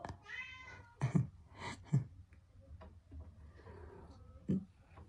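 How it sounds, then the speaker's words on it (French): Loto, a rescued ginger former street cat, gives several close meows spread over a few seconds, with quiet ticking and soft breathing between the calls. "C'est un chat de la rue."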